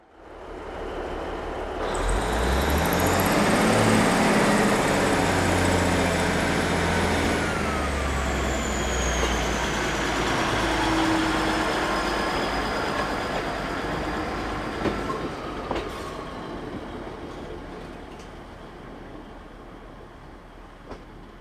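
A Class 150 diesel train at Looe station on the Looe Valley Line, its engine rumbling steadily and loudly nearby, with a long descending whine of brakes or engine as it settles, and no voices.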